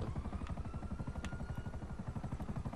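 A helicopter in Grand Theft Auto V thumps with a steady, fast rotor pulse, low and continuous throughout, heard at moderate volume with a couple of faint clicks and no talking.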